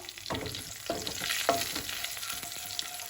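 Coarsely ground coriander and fennel seeds roasting in a pan, a soft steady sizzle under several sweeping spatula scrapes across the pan, close and alone without voices.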